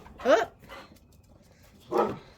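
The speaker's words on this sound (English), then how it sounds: "there go the dogs" Dogs bark twice, a short burst and then another after a pause, fairly close and moderately loud, with faint room noise between.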